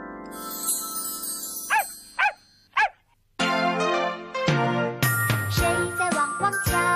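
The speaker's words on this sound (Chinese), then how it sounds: "小狗汪汪叫" A children's electronic animal sound book plays a dog's bark, several separate yips after a tinkling jingle, followed by bright electronic music.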